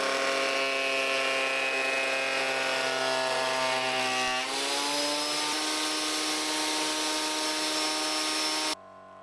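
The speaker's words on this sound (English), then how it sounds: "I ran these through the planer to get a perfectly flat surface." A wood planer flattening spalted wooden table tops made from offcuts: a loud, steady high-pitched motor whine with a roaring cut that shifts pitch midway, then cuts off abruptly at the end.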